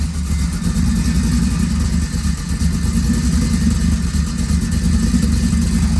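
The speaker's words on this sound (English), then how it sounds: "the truck's got great sound" An old 1946 Chevy truck engine runs steadily at a low, throaty idle, close up and loud, with no talking.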